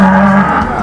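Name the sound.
cow mooing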